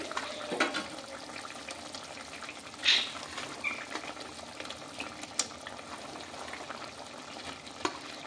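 Fish curry broth boils in a pan with a soft, steady bubbling and faint sizzle, punctuated by a few small clinks and a brief louder burst, heard up close without speech.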